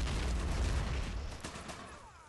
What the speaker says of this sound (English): Come on, throw the damn grenade.